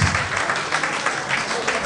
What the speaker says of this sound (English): do you want to clap for them for this awesome organization?